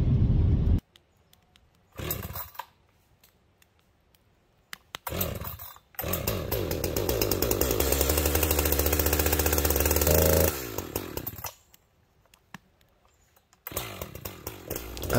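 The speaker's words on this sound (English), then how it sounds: "this is a brand new chainsaw I bought last summer, and this is the very first time I used it" A brand new chainsaw cutting a dead tree comes in several bursts: short revs, then a long sustained roar through the cut, then idling and a final rev.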